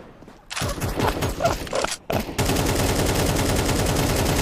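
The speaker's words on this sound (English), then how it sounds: "You guys using AKs? Wait, that sounds so weird in your guys' hands compared to when I shoot it." Counter-Strike 2 AK rifle gunfire crackles in dense, continuous bursts, a short opening volley, a brief pause, then sustained rapid shots running to the end, loud and close with no talking.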